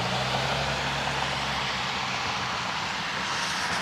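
Airplane engines roar steadily at Cleveland Hopkins airport in rainy weather, a loud, continuous broadband drone with a low hum that holds throughout without pause.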